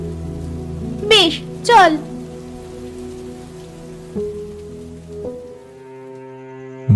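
Steady rain falls outdoors near an old empty house, a constant even hiss filling the background while people talk briefly over it.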